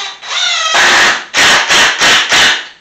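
A screw is driven to fix a shelf bracket on a wooden workstation shelf unit: a grinding, rasping run followed by several short, evenly spaced bursts, close and loud.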